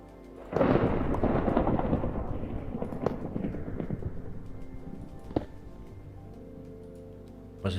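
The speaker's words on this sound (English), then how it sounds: "I am hearing a thunder." Thunder in the Minecraft survival game, a loud rumbling roll that rises suddenly, swells broadly and slowly fades over several seconds, with a sharper crack midway and a second thunder beginning at the end.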